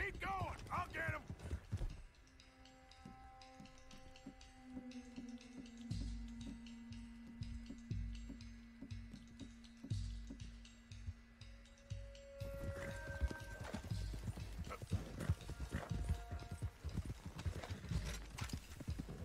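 Steady clip-clop of horse hooves at a running pace in Red Dead Redemption 2, a loose stallion, with tonal game-like music or hums beneath and a louder burst of activity in the second half.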